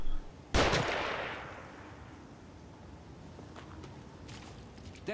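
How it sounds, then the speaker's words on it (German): A single loud gunshot from enemies in The Evil Within, a sharp crack followed by a long fading echo, then a few faint distant shots in a quiet, noisy backdrop. "Sie schießen."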